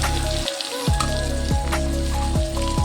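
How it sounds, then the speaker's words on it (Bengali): Onions sizzling as they fry in hot oil, a dense close crackle that drops out briefly and resumes with repeated bursts, probably as they are stirred. "খানিকক্ষণ ভেজে নেব এবার এর মধ্যে আমি পেঁয়াজটা ছড়িয়ে দেবো"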